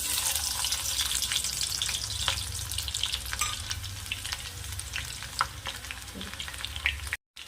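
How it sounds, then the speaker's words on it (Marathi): Onion sizzles steadily in hot oil for a Vidarbha-style pumpkin sabzi, a dense, continuous frying hiss with occasional stirring scrapes, close and fairly loud, cutting out briefly near the end. "तेल तापाला ठेवलं आहे आता यामध्ये आपण कांदा ॲड करू"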